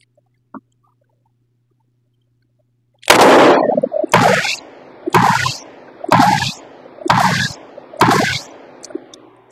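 A 6-inch Ruger GP-100 revolver fires six loud, close, sharp shots at an even steady pace after a short quiet lead-in, and each report rings out briefly before the next.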